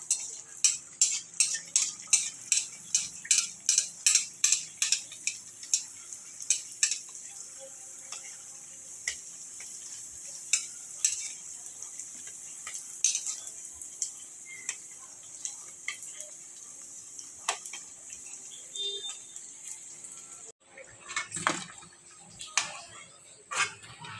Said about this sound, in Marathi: अशा करंज्या खरपूस तळून घेतलेल्या आहेत आईने। आता दुसरे बॅचेस टाकलेले आहेत।